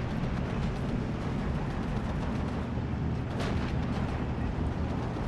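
Distant tank shells and gunfire in the WWII strategy game Steel Division 2, a steady low battlefield rumble with muffled blasts and one sharper crack midway, fairly faint, no talk.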